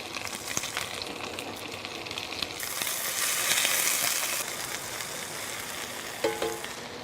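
Burger patties fry in a pan over medium-high heat, giving a steady close sizzle that swells for a moment as more meat goes in, with a few light clinks near the end.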